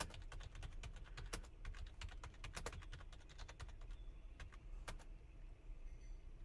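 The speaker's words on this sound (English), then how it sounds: "I'm typing in all caps because I'm so pissed." Rapid typing on a computer keyboard clatters continuously, quick uneven keystrokes with a few sharper clacks, over a low background hum and no speech.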